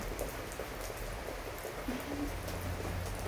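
Steady, close rain falling and pattering on surfaces, an even continuous wash with no talking.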